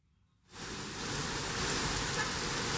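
Heavy rain in Kochi starts suddenly after a brief quiet and then pours steadily as a dense, even hiss with no talking.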